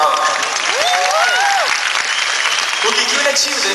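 Concert crowd at the Credicard Hall in São Paulo applauding a band, steady loud clapping throughout with cheers and whistles mixed in.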